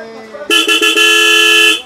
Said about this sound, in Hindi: और इसके बाद इसमें लगा देंगे हॉर्न